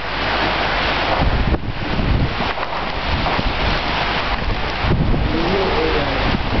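Hurricane Dean's surf and wind roar in a constant loud, rushing wash, with heavy wind buffeting the microphone and waves surging throughout.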